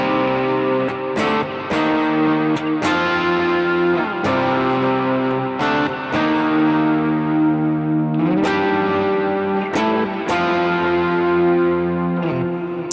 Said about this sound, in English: So altogether, this is what the chorus sounds like.